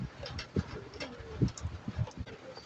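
Rain-wet pigeons coo in a run of soft, low, throaty calls at close range, several birds overlapping over a steady hiss of background noise.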